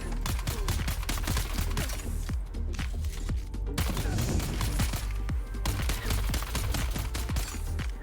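Semi-automatic rifle fire in the video game Dune Awakening, many loud, sharp shots fired in rapid, slightly uneven succession close by, with a brief pause partway through.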